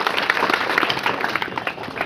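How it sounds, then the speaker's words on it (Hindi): Audience members in a classroom-style gathering clap together for a participant, a busy, even burst of applause that fills the whole two seconds. "एक बार जरा इनके लिए ताली बजाइए।"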